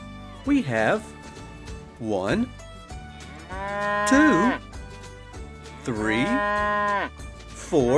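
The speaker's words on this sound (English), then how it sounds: "Cow. That's right." Cows moo several times in long, drawn-out calls, spaced apart, with a person counting aloud between them.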